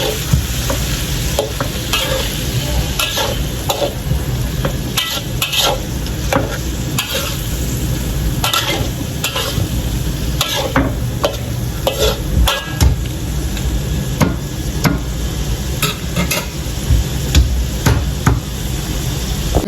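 Jengkol and tempeh with spices stirred in a frying pan, a steady sizzle under repeated scraping and knocking of a utensil against the pan in an uneven rhythm, close and loud, with no talk.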